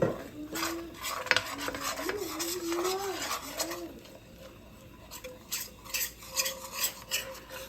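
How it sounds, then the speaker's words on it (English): A roux for gumbo, thinned with avocado oil, is stirred in a pot, making quiet repeated scraping and rasping strokes with faint metallic clinks and a soft background whistle-like tone, with no talking. "You want to keep stirring your roux because you don't want it to burn"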